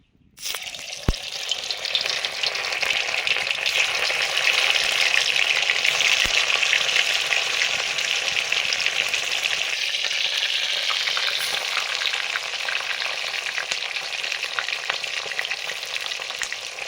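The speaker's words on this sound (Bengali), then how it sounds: "সর্ষের তেল দিলাম, মুইঠাগুলো ভাজবো এবারে।" Chitol fish dumplings fry in mustard oil, a loud continuous sizzle and crackle that swells after a brief quiet start and holds steady throughout, with no voices.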